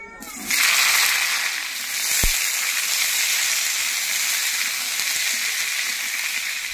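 Potatoes sizzle in hot mustard oil in a wok, a loud steady frying hiss that starts suddenly and holds throughout, with a sharp thud as they go in.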